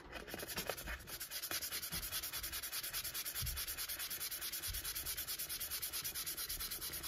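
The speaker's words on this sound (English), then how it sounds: "around here I'm gonna do some sanding" Steady, continuous hand sanding of a tumbler: a rhythmic abrasive rubbing with even back-and-forth strokes, close and fairly loud throughout, with no voices.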